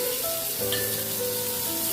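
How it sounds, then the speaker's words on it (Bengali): Spring onions frying with garlic in a pan make a steady, close sizzle that runs without a break, with no voices. "এটার সঙ্গে আবার ভাজা করছি"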